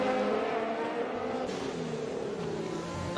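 F1 race cars overtaking on the Bahrain short circuit in F1 2020, a steady high-pitched engine whine with a pitch shift as one car draws past another, moderately loud throughout.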